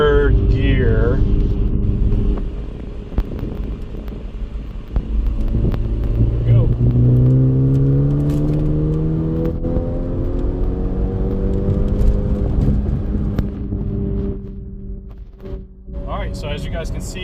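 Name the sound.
flex fuel Ford Focus ST engine cruising in third gear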